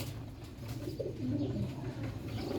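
Low, throaty cooing from a Kasuri breed pigeon repeats steadily against a dull background hum, fairly close and moderately loud, with no talking.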